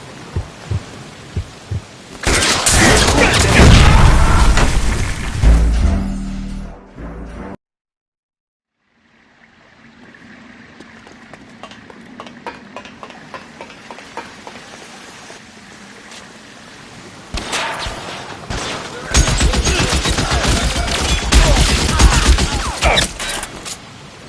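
Heavy gunfire in the video game L.A. Noire, loud dense bursts at the start and again near the end, broken by a sudden silence and a quieter stretch of muffled thumps and hum.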